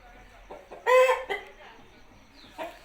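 An Aseel rooster gives a few short, loud clucks and squawks, close by, with quiet gaps between calls.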